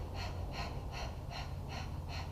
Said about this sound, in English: let's try to simplify that a bit by panting.